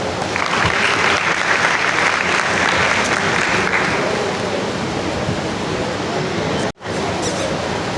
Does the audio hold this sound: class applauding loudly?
yes